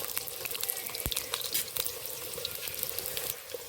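Potatoes frying in oil in a pan, a continuous crackling sizzle with scattered pops and a light scrape of stirring, close and steady throughout.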